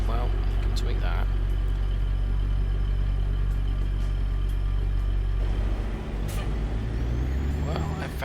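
A modded truck engine in American Truck Simulator labours in a tall third gear, a steady low drone slowly climbing as it strains to gain speed, with someone talking over it and a brief hiss near the end.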